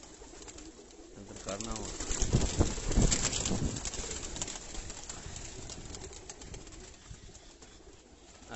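Breeder pigeons coo in soft, repeated rolling calls, close by, with a burst of wing flapping midway, while someone talks over them.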